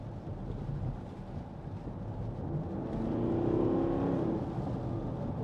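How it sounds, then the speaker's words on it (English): A 2014 Porsche Cayenne 4.2 TD S diesel with Tiptronic S and four-wheel drive accelerating on the road, a low engine drone swelling in the middle under steady road and wind noise, heard from inside the cabin. "And the acceleration's something to behold as well"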